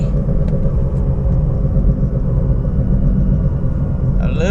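A 2011 Toyota Prius drives at around 30 mph with a worn wheel bearing, giving a constant loud low rumbling drone from inside the cabin, with a brief voice at the very end.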